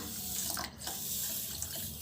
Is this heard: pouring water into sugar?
yes